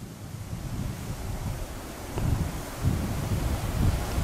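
An iron-hulled coastal fishing boat, about 5 metres wide, runs through sea waves off the Cà Ná coast. A steady roar of wind and surf fills the sound, with rougher surges as the hull hits swells, and no voices.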